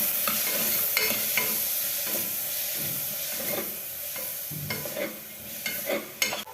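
Chopped tomato and onion with curry leaves frying in a pan for tomato rice, stirred steadily: a constant close sizzle with irregular scraping and clacking strokes of the spoon throughout, no voices.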